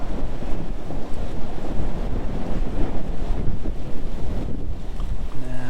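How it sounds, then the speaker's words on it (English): Strong wind blows at a trout stream, a loud continuous roar with gusty buffeting of the microphone throughout, with no talk. "the wind is going to be a bit of a problem today"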